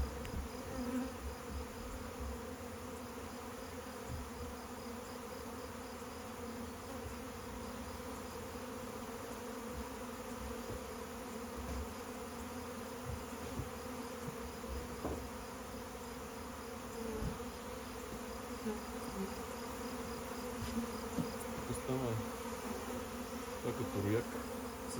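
A honeybee swarm passes over an apiary, a faint steady hum of many bees droning continuously with a few closer buzzes and light background noise.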